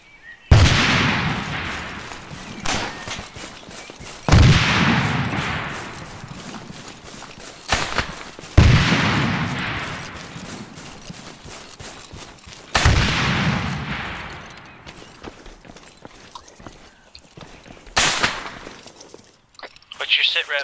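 Gunfire in the military video game ARMA 3. Loud booming shots and rattling bursts come every few seconds, with crackling noise in between and voices talking over them now and then.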